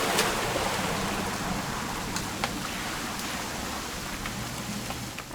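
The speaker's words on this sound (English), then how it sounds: "It's gonna rain the whole weekend" Steady rain falls in the game What Remains of Edith Finch, a dense constant hiss with scattered sharper drop ticks and a faint low rumble underneath, with no voices.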